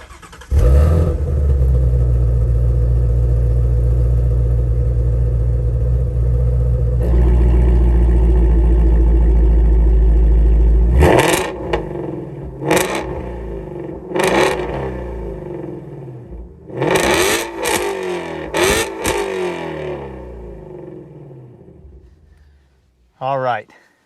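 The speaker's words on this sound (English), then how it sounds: "this exhaust, listen to this exhaust." A Shelby GT350R exhaust settles into a loud, steady idle rumble, then barks through a series of sharp, close revs with pauses between, ending on one last short blip.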